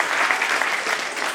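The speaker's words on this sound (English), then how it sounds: "All of you need to clap for the question." An audience at a 2015 school quiz semifinal applauds in a steady, dense burst of many hands clapping close by, with no speech over it.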